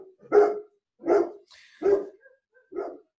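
A dog barks four times, loud and close, with short pauses between the woofs and quiet gaps otherwise.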